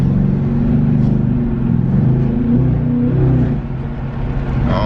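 The exhaust of a Dodge Charger RT rumbles loud and close in a neighborhood, a deep steady drone that swells with a couple of revs and then drops back a little near the end.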